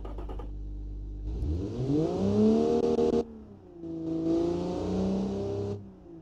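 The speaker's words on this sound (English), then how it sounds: "Okay, that's an engine." A video-game car engine in Automation revs up in two long bursts, the pitch climbing and holding high, with a short drop back to idle between them; loud and close.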